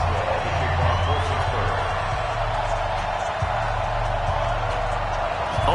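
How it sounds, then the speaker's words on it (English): Sold-out Gillette Stadium crowd in Foxborough before a Patriots–Steelers football game, a loud, continuous roar of cheering voices filling the space, with a low droning undertone throughout. "the Patriots, introduced to this, as always, sold-out crowd as they get set to go head-to-head with Ben"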